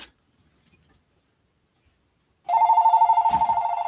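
A telephone rings during a live online auction of vintage goods, a steady loud electronic ring that starts abruptly after near silence and keeps going without a break.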